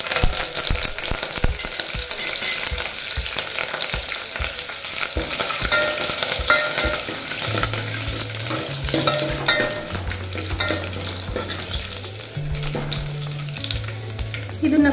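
Curry leaves and garlic sizzle steadily in hot oil in a pan while being stirred for a North Karnataka peanut sambar, a continuous close crackle with scraping stir strokes and no talking.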